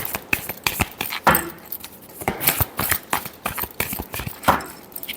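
Tarot cards being shuffled by hand up close, a run of quick, crisp riffling snaps and flutters in uneven bursts, with no talking.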